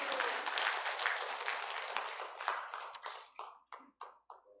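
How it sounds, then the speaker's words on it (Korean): Church congregation at a Sunday worship service breaks into a round of clapping that starts dense and loud, then thins into a few scattered final claps before fading out. "박수 한번 치는 거예요"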